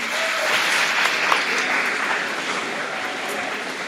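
Steady applause from a crowd at an academic awards ceremony, a dense even clapping that holds at moderate loudness for a few seconds.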